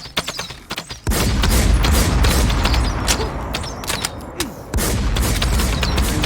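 Bursts of gunshots ring out in the survival shooter WarZ: scattered sharp cracks at first, then a sustained loud volley of rapid fire with booming impacts, briefly easing before another heavy burst.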